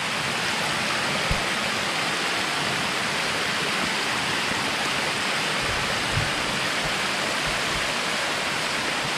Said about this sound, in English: so we get to these falls here. Nice relaxing falls.